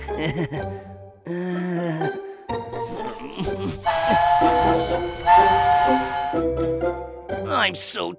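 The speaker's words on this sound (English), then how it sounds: "I want to ride the train too." Cartoon-style train sounds with loud whistle toots, chugging and hissing in quick bursts, mixed with animated voices and music.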